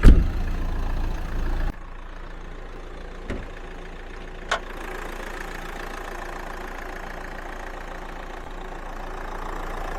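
A 2013 Dacia Duster 1.5 dCi diesel engine idles with a steady low rumble after a louder start, a couple of brief clicks breaking the even running.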